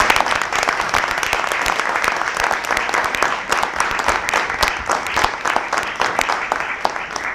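Applause fills a municipal council meeting room in La Queue-en-Brie, with many hands clapping in a dense, loud, even patter that continues steadily throughout.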